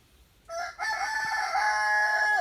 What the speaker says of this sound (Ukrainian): Півні там мої кукурікають